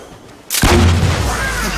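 A sharp gunshot blast in Fortnite Battle Royale cracks out loud and close after a brief quiet lead-in, followed by a booming low rumble that hangs on for over a second.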